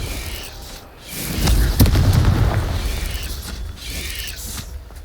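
A Confringo blasting spell exploding in Hogwarts Legacy, a deep booming burst that swells and rumbles for a couple of seconds amid mechanical clanks before fading.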